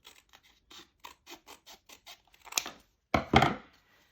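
Paper card is cut into a strip for a flower pot rim, a run of short, dry snips and scratches close up, ending with two louder rustling cuts.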